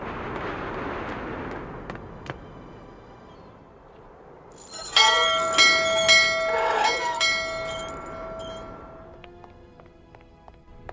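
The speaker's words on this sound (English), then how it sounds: "The bell did indeed ring, but it is very windy outside, isn't it?" A bell in the video game Syberia Remastered rings out in several resonant, slowly decaying strikes midway through. It follows a stretch of gusty wind noise, with faint chiming lingering toward the end.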